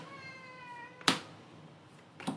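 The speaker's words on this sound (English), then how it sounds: "My cat came in here to join." A house cat gives a single drawn-out meow indoors during a sports card break, followed by two sharp clicks or taps, with no talking.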